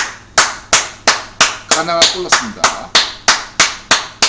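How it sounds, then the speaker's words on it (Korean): A small group claps in a steady, evenly spaced rhythm of about a dozen sharp claps, cheering for a football goal by Ghana in a World Cup match, while a voice speaks over the middle of the clapping. "왜 박수 치지?"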